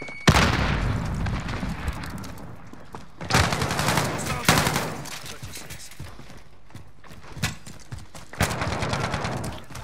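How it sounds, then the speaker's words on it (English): Grenade exploding during a Call of Duty: Modern Warfare match, a loud boom followed by bursts of gunfire and rumbling blasts, with scattered voices in the mix. "Throwing grenade!"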